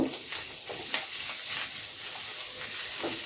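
Dried loitta fish frying with coriander powder, ginger paste and other spices sizzles in a loud, steady hiss, with soft stirring scrapes pulsing through it at close range and no talking.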